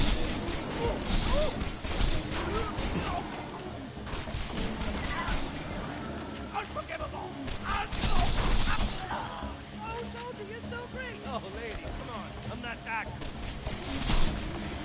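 Unkempt Herald gun firing in Borderlands 2, sustained bursts of rapid shots mixed with impacts and game effects, moderately loud, with someone talking over much of it.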